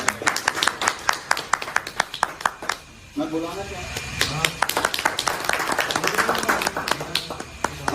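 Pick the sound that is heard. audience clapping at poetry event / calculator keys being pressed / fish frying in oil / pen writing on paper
audience clapping at poetry event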